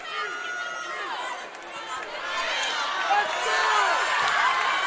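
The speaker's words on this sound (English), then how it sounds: "Central fans trying to put some energy into their team." Basketball fans cheer and shout in a gym during the fourth quarter of a high school state tournament game, a steady roar of crowd noise with whoops rising toward the end.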